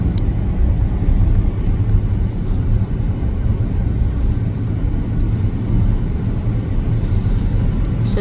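Car driving through a road tunnel in Miami, a loud, steady low rumble of engine and road noise echoing continuously without a break.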